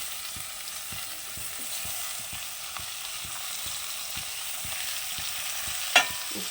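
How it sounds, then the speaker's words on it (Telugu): Chopped tomatoes frying with dried prawns in a pan, a soft continuous sizzle with regular light stirring taps and one sharper clink near the end. "ఇప్పుడు కట్ చేసుకున్న టమాటోస్ కూడా వేసేసుకున్నాం."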